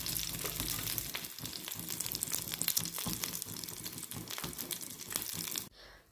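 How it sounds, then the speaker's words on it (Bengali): Almonds, cashews and raisins fry in hot ghee, a loud, dense, steady sizzle with crackling spatter that carries on without a break and then cuts off abruptly near the end. "ঘিটা গরম হওয়ার সাথে সাথে আমি দিয়ে দিব ড্রাই ফ্রুটগুলো। সেগুলো হালকা করে ভেজে নিতে হবে।"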